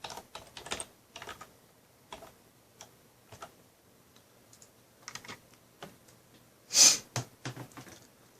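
Keys on a computer keyboard tapped in short irregular bursts while a password is entered, close and fairly quiet, with one louder sharp click near the end and no talking.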